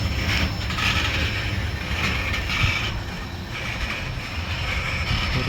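Freight train cars rumbling and clanking steadily past up close as the end-of-train device goes by on a lengthy mixed freight led by ex-Missouri Pacific SD40-2 and SD70MAC units with distributed power at St. Denis, with continuous wheel and coupler noise.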